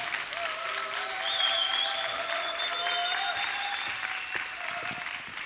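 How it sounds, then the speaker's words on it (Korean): An audience at an academy lecture on late Joseon enlightenment reformers claps steadily in welcome for the lecturer, a dense even round of applause with a few faint tonal squeals over it. "박수로 환영해 주시면 감사하겠습니다."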